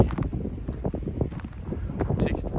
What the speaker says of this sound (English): It's a bit windy, you probably can't hear me.